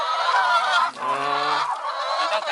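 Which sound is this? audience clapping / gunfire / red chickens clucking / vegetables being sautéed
red chickens clucking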